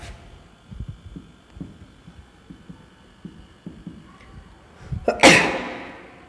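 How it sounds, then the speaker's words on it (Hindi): A single loud, sharp sneeze bursts out near the end, cutting through a quiet room where soft low thumps and a faint hum sit underneath. "एक नॉर्मल छींक थी, कोरोना से मेरा कोई लेना देना नहीं है।"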